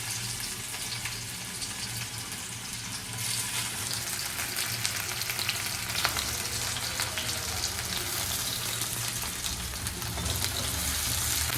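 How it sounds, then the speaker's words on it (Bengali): Chopped onions go into a hot pan for a fish curry and sizzle loudly, the frying hiss jumping in intensity a few seconds in and holding steady with occasional stirring scrapes, no talking. "কড়া গরম হয়ে গেছে, এবারে পেঁয়াজ কাটা কুচিগুলো দিয়ে দেবো।"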